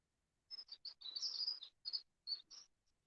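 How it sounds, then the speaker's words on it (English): A bird sings outdoors on a walk, giving a run of bright, close chirps and short trilled phrases, broken by brief pauses, with no other sound around it. "bird is singing"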